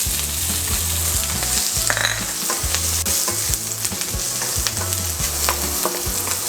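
Onion sizzling and being stirred in a little oil for ginataang santol with shrimp, a steady close frying crackle with repeated scraping stir strokes and no talk.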